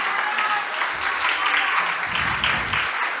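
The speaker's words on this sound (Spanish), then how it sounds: "Dele un aplauso al Señor" A church congregation at a Sunday service applauds steadily throughout, a continuous wash of clapping with a low rumble of voices underneath.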